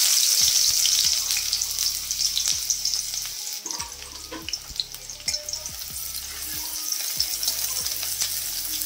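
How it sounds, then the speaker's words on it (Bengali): Chopped onion sizzles and crackles in hot mustard oil in a pan, a steady close frying hiss broken by repeated scraping stirs and knocks of a spatula, with no talk. "তেলটা গরম হয়ে গেছে, এখন আমি একটা বড় সাইজের পেঁয়াজকে কুচো করে রেখেছিলাম সেটা এখানে দিয়ে দেবো।"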